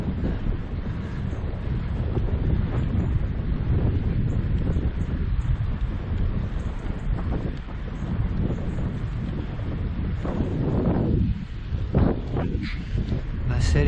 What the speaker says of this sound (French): Un léger vent contre apparemment.